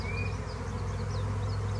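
A honeybee swarm drones with a dense, steady buzzing on a fine day, close and continuous with no pause, some individual bees whining past above the low hum.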